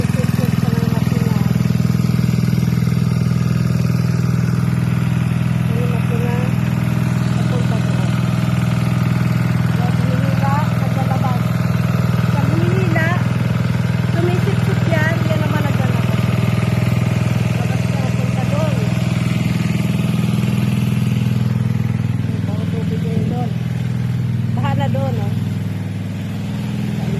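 A pool vacuuming machine runs continuously while sucking water from a swimming pool, giving a loud, steady low motor hum that stays even throughout, with people talking now and then over it.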